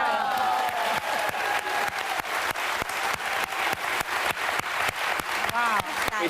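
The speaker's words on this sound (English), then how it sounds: "I think I get a little less applause than I did when I said 60 years." A television talk show studio audience bursts into loud, sustained applause mixed with crowd noise, a full and steady roar of clapping throughout.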